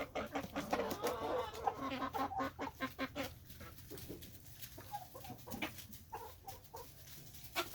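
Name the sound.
Rhode Island Red chickens clucking while eating pumpkin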